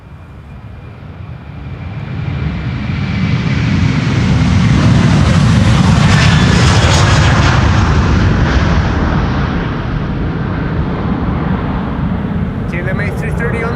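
A KLM jet airliner, an A330, departs Schiphol's Polderbaan runway 36L in windy weather, a broad engine roar that swells to a peak mid-way and then holds loud and steady, with wind noise over the microphone.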